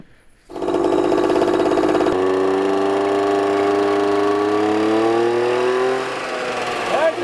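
A Honda Gyro three-wheel scooter's small engine fires up after a brief pause, then runs loud and close with a steady buzzing drone whose pitch rises and falls before it eases off near the end.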